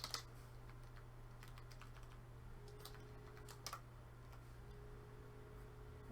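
Sparse keystrokes tap on a computer keyboard, faint and close, in short irregular bursts over a low steady electrical hum.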